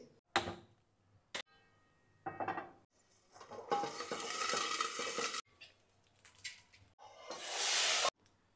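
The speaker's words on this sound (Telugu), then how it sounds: "ఇప్పుడు ఈ టొమాటో పచ్చిమిర్చి వీటిని ఫ్రై చేసేసుకొని చట్నీ చేసుకుంటాను" Tomatoes and green chillies fry in a pan for chutney, heard as bursts of sizzling and stirring with clinks of a utensil against the pan, starting and stopping in uneven spells.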